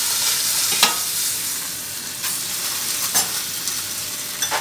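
Hard vegetables such as carrot and celery roasting in a hot pan for ossobuco, giving a steady broad sizzle with a few sharp stirring scrapes and clinks, close and continuous with no talk.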